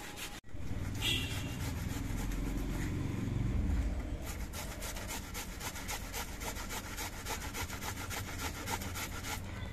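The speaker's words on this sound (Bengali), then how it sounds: "ঘষনি দিয়ে পেঁয়াজগুলো ঘষতে কিন্তু খুব একটা সময় লাগে না" Onions rubbed against a hand grater in a home kitchen, a continuous rasping scrape at close range, loud and steady with quick repeated strokes that ease slightly partway through.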